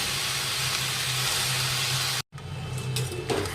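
Freshly washed spinach hitting hot oil in a pan sets off a loud, broad, steady sizzle and hiss that cuts out briefly, then resumes more softly with light clatter.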